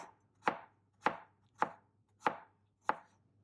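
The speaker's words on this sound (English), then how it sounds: "Ginger. I like to just make some stripes of it, some slices." A knife cutting ginger into thin strips on a board, five evenly spaced, crisp chops about half a second apart, close and clear with no talking.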